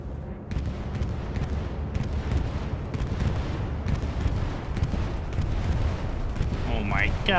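Bombs exploding in the WWII shooter Hell Let Loose, dense rumbling blasts and crackling gunfire rolling continuously, loud and close, with a short voice near the end.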